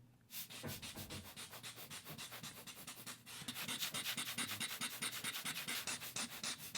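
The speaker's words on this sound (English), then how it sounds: "this is just a little air blower thing that I use to, like, you know, blow dust off the lens" A small hand air blower for clearing lens dust is squeezed repeatedly, giving a fast rhythmic series of soft close puffs that grow slightly louder and quicker partway through.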